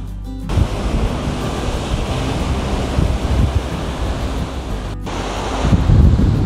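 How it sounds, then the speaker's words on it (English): Surf breaking along the Maui coast near Kapalua, a steady roar of waves with gusting wind buffeting the microphone, loud and continuous with a brief dropout midway. "Hear those waves crashing?"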